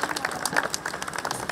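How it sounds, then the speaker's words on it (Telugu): Clapping from an audience at a church anniversary meeting in Telangana as a pastor comes up to the stage, with uneven bursts of individual claps rising and falling over steady crowd applause. "వారు వస్తుంటే చప్పట్లు కొడదాం"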